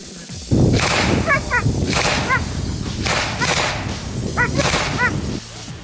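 Sharp gunshots crack out repeatedly in an uneven sequence during military training, loud and close, with whistling bullets between the bursts.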